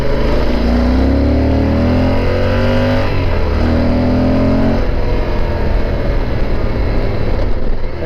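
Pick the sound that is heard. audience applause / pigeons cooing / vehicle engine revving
vehicle engine revving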